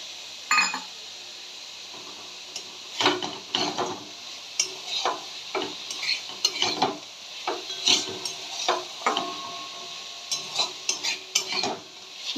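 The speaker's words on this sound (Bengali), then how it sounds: "আমি এই সময়তে এই বড়িগুলো আর পোস্তটা দিয়ে একটু ভালো করে" Lentil dumplings (bori) and poppy seeds frying in a pan for a red amaranth dish, with repeated scraping and stirring strokes of a spatula over a soft sizzle, close and irregular.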